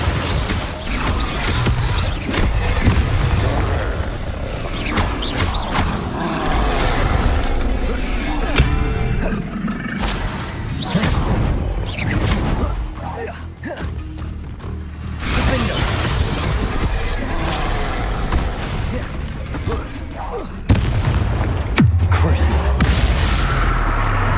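Combat spells going off in Hogwarts Legacy, heavy booms, shattering crashes and impact thwacks following one another in a continuous loud barrage, with a voice calling out in between.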